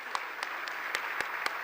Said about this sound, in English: Can we give Ivanka a very big round of applause for who she is and what she does?